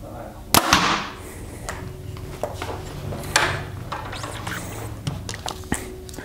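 A Bear Ventum Pro aluminum compound bow releases an arrow with one sharp, loud snap up close, followed by a short resonant thrum and a few quieter knocks against low background noise.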